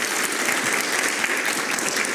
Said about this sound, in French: Est-ce qu'on peut l'applaudir pour la remercier?